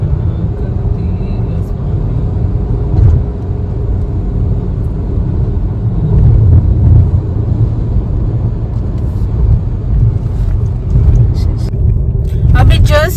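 A car driving through traffic on the road near Margao, Goa, with a steady loud engine and road rumble heard from inside the vehicle, continuous throughout, with a few faint high squeaks near the end.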